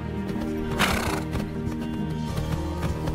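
In a horse-riding video game, hooves clip-clop in a steady rhythm while a horse whinnies loudly, with a louder burst near the start.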